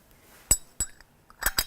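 Glass cologne bottle, being filled through a funnel with homemade orange-peel cologne, gives a few sharp, close clinks in two brief pairs, with quiet between them.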